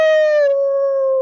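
A human voice imitates a wolf howl, a loud, close, sustained tone that slides slowly downward for over a second, heard alone.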